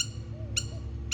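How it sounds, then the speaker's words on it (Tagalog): Birds calling in a village, with a few short bright chirps standing out over a steady low background rumble. "Nakita niyo yung mga ibon, no? Ayan, ang dami."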